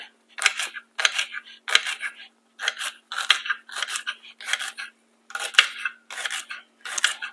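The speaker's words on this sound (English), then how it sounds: "we're going to chop this up" A knife chops on a cutting board in a kitchen, sounding as a series of close, crisp bursts of rapid taps separated by short pauses, with no talking.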